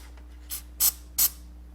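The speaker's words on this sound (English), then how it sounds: "So a quick little spray" Two quick short bursts of aerosol protectant sprayed onto a Corvette electrical ground connection, preceded by a fainter puff, close and crisp against a quiet background.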